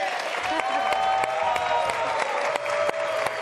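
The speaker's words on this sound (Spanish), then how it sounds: "Jorge Moreno, un aplauso para él" Applause from a studio audience on a Spanish-language television programme, steady clapping with sharp individual claps standing out, while a tonal music bed runs underneath throughout.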